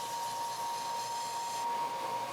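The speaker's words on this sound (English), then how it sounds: "at the belt sander I can put a point on the end." A continuous steady whine and whoosh of a belt sander putting a point on a spinning wooden stick, even and close, with no pauses.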